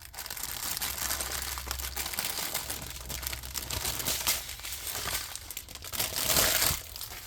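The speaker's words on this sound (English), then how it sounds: "Sorry about all the crinkling" Plastic packaging crinkling and crumpling close by while a kit is being put together, a continuous loud rustle that swells near the end.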